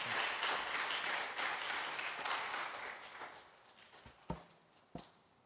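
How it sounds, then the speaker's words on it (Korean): Church congregation applauding to welcome a missionary at a Wednesday service, a dense wash of clapping that fades over several seconds, ending with a few louder isolated claps or thumps. "따뜻한 감사와 또 응원과 사랑의 박수로 환영해 주시길 감사하겠습니다"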